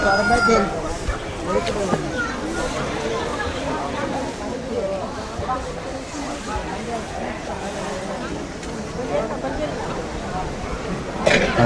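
Roosters crowing and clucking at a Murugan temple in Kataragama, several birds heard on and off through the clip, mixed with steady crowd noise and people talking.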